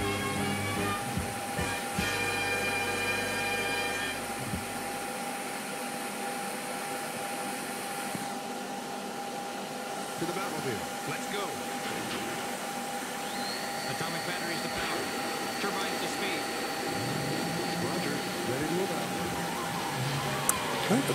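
A CNC hotwire cutter trims a foam fuselage block, giving a steady low machine whir with shifting tonal whines as the hot wire travels, continuous throughout at moderate level.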